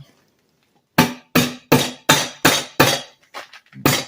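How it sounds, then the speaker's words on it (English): A rubber mallet strikes repeatedly in a steady rhythm on a 1998 Dodge Ram 1500, about eight dull, thudding knocks after a moment of quiet, fairly close. "Just work on hammering it back in a little bit."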